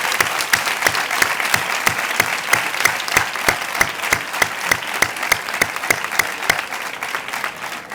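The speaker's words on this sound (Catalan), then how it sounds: "Un aplaudiment també per a ells." Clapping from the audience at a school graduation ceremony fills the space steadily, with one nearby pair of hands striking a regular, prominent beat over the broader crowd applause, no talking heard.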